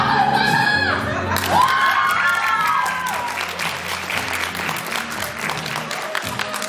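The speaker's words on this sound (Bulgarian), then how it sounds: "Силни аплодисменти за нашите шеф-готвачи." Crowd at a tourism school anniversary event applauding and cheering for student chefs, with loud dense clapping, whoops and shouts, and voices over the top.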